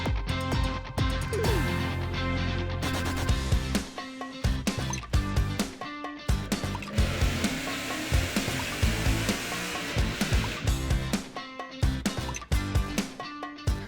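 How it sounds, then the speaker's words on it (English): A car runs hard on a dynamometer in a school auto shop, its loud sustained roar rising and falling in waves with repeated throttle surges and brief dips across the whole stretch. "probably the thing that the kids enjoy the most is a dynamometer"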